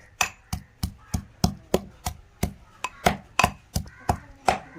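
Onion being chopped on a board in a home kitchen, around fourteen sharp, close knife thuds in a brisk, slightly uneven rhythm with faint background hum and no voices.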